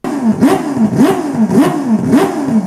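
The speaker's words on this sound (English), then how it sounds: "along with the Mazda Wankel engine" A Mazda Wankel rotary engine revs in four rhythmic, evenly spaced throttle blips, each pitch sweep rising sharply then falling back, loud and close with no voices.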